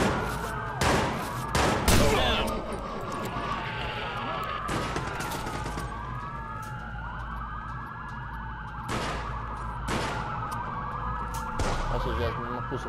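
Police sirens wail and sweep continuously in the Watch Dogs video game while sharp bursts of gunfire crack over them, a busy, loud street shootout with voices in the mix.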